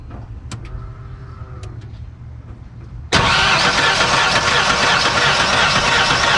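A few faint clicks and a whirring starter are followed by an old-body-style Ford F-150 pickup engine catching abruptly on its first start and settling into a loud, steady rumbling idle.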